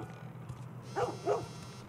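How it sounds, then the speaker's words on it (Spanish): Dog in the video game The Last of Us giving two short, distant barks about a third of a second apart, faint over a low background hum. "Hay un perro ladrando que me está rayando mucho."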